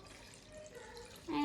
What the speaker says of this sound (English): I like to pour it into one of these Pyrex easy pour measuring cups